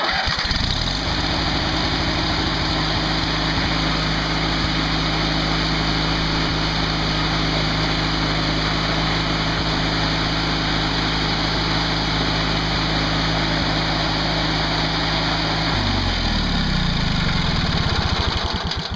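A Craftsman lawn tractor engine runs steadily at close range, a loud continuous mid-pitched drone that holds evenly and then drops in pitch near the end as it winds down.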